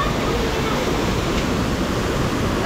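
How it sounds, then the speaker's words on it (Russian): A waterfall in Georgia, heard as steady, dense rushing water that fills the whole clip at an even, fairly loud level, with no voices audible. "Просто посмотрим водопад."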